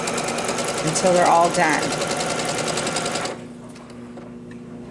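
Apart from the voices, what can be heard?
sewing machine stitching quilt pieces together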